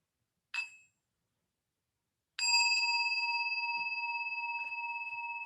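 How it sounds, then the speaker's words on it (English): Meditation bell rung to signal getting ready to stand during walking meditation: a short faint ding, then a clear struck bell ringing out with a long, slowly decaying sustained tone. "And here's the bell."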